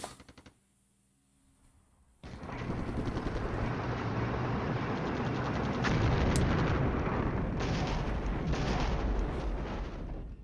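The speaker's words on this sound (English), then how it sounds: "More effective artillery coming down on the B-297, so that's a start" Artillery barrage landing on units in a NATO war strategy video game, a sudden loud, sustained rumble of dense blasts and booms that starts after a quiet lead-in and keeps roaring to the end.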